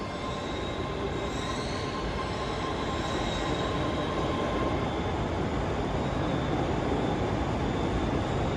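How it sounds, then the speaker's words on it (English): A ScotRail train leaves Glasgow Central with a steady, heavy rumble and a faint wheel squeal on top, heard continuously and fairly close the whole way through. "departing out now is the 1017 Scotrail service, starting here at Glasgow Central"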